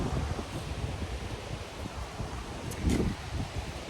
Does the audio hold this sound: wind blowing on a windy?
yes